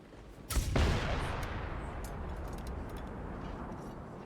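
A loud explosion bursts in a video game with friendly fire enabled, a sharp blast followed by a long rumbling decay that fades into background noise.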